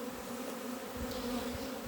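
Honeybees fly out on orientation flights from their packages on a cold spring day, making a steady close buzzing drone that holds evenly throughout, with no voices.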